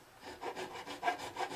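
An old non-diamond file crowns a fret on a 1970 Sigma acoustic guitar, giving quiet, rhythmic rasping strokes, about six short scrapes in quick succession, close up and alone.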